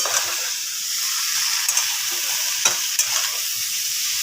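Snake gourd with turmeric stirred in a frying pan gives a steady bright hiss of sizzling, with a few soft scrapes and taps of the spoon.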